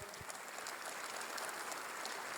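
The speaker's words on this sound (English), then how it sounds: "Let's give them a big round of applause." Audience applause at a political meeting, a dense, steady wash of hand claps at a fairly low level lasting the whole moment, with no voices on top.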